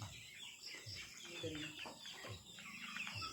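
Heritage chickens, a cockerel and a hen, cluck softly nearby in short repeated bursts over faint background hiss, quiet and close without any loud crowing.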